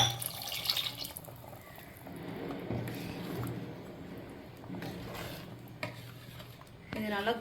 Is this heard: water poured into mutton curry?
yes